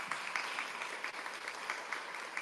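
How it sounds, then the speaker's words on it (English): An audience at a panel discussion on water and climate gives a steady round of applause for the panelists, an even wash of clapping at moderate volume with no talking. "do a big round of applause to all of our panelists."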